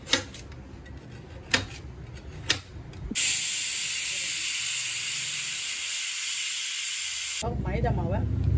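A pressure cooker whistle vents steam in a sharp, loud continuous hiss lasting several seconds, preceded by a few soft knocks and followed by faint talk.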